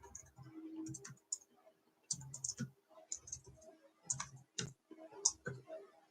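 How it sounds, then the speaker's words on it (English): Typing on a computer keyboard while working in a mainframe terminal, with irregular bursts of soft clicks and key taps separated by short pauses, close and fairly quiet. "Again, my typing is pretty terrible."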